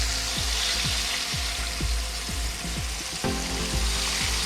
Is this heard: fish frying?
yes